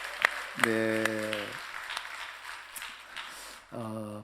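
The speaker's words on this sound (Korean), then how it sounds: "힘차게 우레와 같은 목소리와 함께 박수하도록 하겠습니다" A church congregation breaks into applause during a Sunday worship service, a broad patter of clapping that swells in the middle while sustained tones and a voice sound around it.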